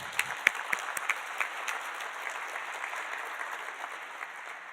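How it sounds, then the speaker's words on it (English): Audience applause for youth participants at a day of presentations, a dense round of clapping from a seated crowd with a few sharp claps standing out early, gradually thinning and softening over the last seconds. "let's just give another round of applause for all of the youth that have participated so far today"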